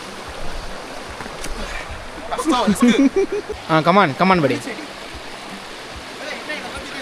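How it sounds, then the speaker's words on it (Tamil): Water from a waterfall flowing in a stream beneath a hanging bridge in Neliyampathy, Kerala, a steady broad rush heard throughout while people talk and call out over it in the middle. "இதில் கீழே வந்துட்டோன்னா அதே அந்த வாட்டர் ஃபால்லேருந்து வர தண்ணி தான் போயிட்டுருக்கு."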